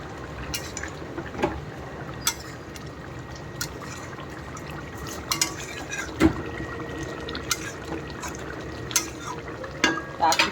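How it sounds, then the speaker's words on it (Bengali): Doi katla, a yogurt-based fish curry, simmers in a pot with a steady low bubbling, broken by occasional soft clinks of utensils against the cookware. "এই আমার দই কাতলা ফুটে গেছে"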